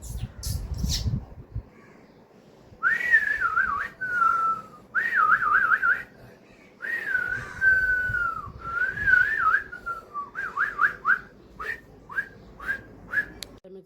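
A person whistles in imitation of a parrot, giving a string of short, warbling, squawk-like calls that start as longer phrases and turn into quick chirps, close and alone after a brief low rumble at the start.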